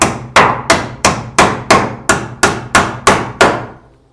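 A hammer drives nails into a wooden wall stud during house framing, with eleven sharp, ringing strikes at an even, quick rhythm, loud and close, and no talking.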